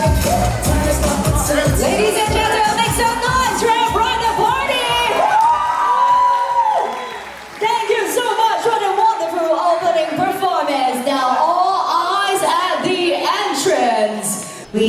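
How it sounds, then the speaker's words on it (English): Wedding reception crowd at Le Meridien Kuala Lumpur cheering, whooping and shouting for the bridal party, a loud continuous mix of excited voices and yells with a brief dip midway. "make some noise for our bridal party!"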